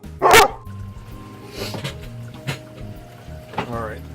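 A dog barks sharply once, then a few softer barks follow amid background murmuring and music.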